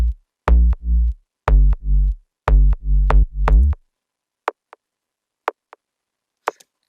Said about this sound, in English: it pretty much just adds some extra kick and sort of that plastic feeling